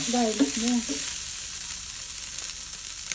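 Food frying in a pan, a steady close sizzle that carries on throughout, with a brief voice over it at the start.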